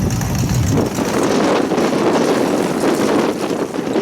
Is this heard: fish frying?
no